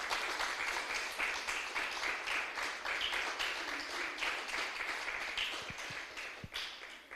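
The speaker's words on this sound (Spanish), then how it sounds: "Dale un aplauso fuerte al Señor" A church congregation claps together in steady, sustained applause at moderate distance, a dense even patter of many hands lasting several seconds with no voices standing out.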